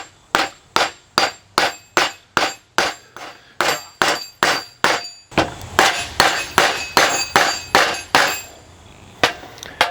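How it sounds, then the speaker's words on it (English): Steady series of sharp rawhide-head hammer taps, about two per second, striking a Dana 60 spindle bearing with a dull knock; strikes are close, even and loud throughout. "I've switched to a rawhide head hammer here"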